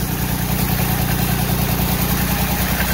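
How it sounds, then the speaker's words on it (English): A Kubota D1105 diesel engine in an RTV1140CPX utility vehicle idles steadily after a head job, a loud, close, even low throb with a fast regular pulse and no talking. "Kubota engine."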